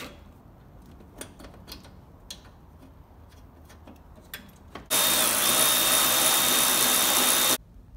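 A power tool runs in one steady burst of about three seconds, driving headlight bolts on a 2014-2015 Chevrolet Silverado, after a few faint ticks and clicks of handling.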